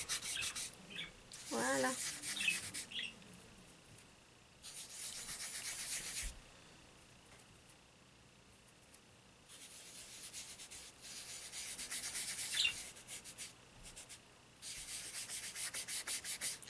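Oil pastels are blended on paper with soft, close rubbing strokes that come in several bursts separated by quiet pauses. A single brief word is spoken.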